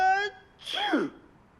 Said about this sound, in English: Now she thinks I sneeze like an elephant.